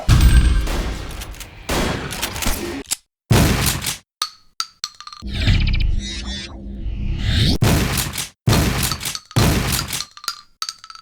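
Shotgun fire in a first-person shooter video game, a series of loud, punchy blasts spaced apart with metallic reload clanks and clicks between the shots.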